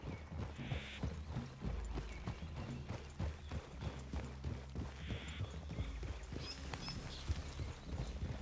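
Horses in Red Dead Redemption 2 clip-clop steadily on the ground, with a brief whinny or two rising over the hoofbeats, close by and fairly loud against low game ambience, no talk.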